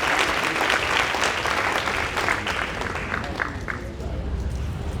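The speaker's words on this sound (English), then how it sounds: "let's give one more round of applause to Team Low" Sustained crowd applause at a middle school prize day ceremony for Team Low, dense steady clapping from a sizeable audience lasting throughout with slight tapering near the end.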